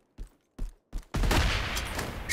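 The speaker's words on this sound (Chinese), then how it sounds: "手雷爆炸！" Grenade blast in the PUBG battle-royale shooter: a few short sharp pops, then a loud sustained roaring burst of explosive noise that carries on steadily to the end, with no talk.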